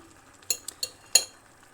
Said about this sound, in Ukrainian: Але перемішуємо все, потрібно добре перемішати.